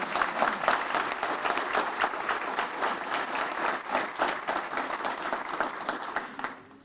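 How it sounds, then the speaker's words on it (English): Steady round of applause from the audience at an awards ceremony, honoring event sponsors, continuous dense clapping at moderate distance that fades out at the close. "Let's give a big round of applause for all of the sponsors."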